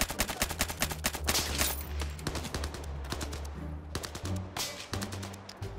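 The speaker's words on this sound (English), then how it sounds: "why is people shooting me through this thing?" Gunfire in the Zero Caliber VR shooter game, with sharp rapid bursts of shots and single cracks repeating throughout, some close and loud, some trailing off.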